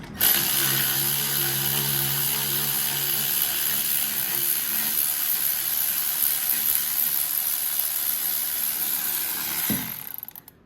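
A bolt being loosened on a blown Toro Z420 Timecutter mower engine with its motor pinned, a continuous close mechanical ratcheting whir that runs for about ten seconds before stopping abruptly.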